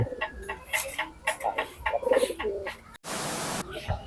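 A pigeon fancier's pigeons, just put together for pairing, coo softly nearby amid scattered clicks and rustling, followed by a brief burst of broadband noise.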